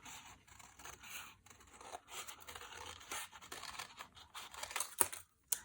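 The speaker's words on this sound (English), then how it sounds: "you're going to come in here and you're going to cut your heart shape." Scissors snip through folded paper to cut out a heart shape for a children's bear Valentine holder craft, a run of close, crisp crunching snips and scrapes that ends with a few sharp final cuts.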